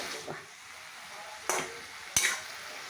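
Mutton frying with spices in a pan as it is stir-fried down, giving a steady close hiss of sizzling broken by a few sharp scrapes and knocks of the stirring utensil.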